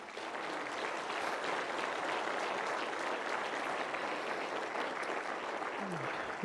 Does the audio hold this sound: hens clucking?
no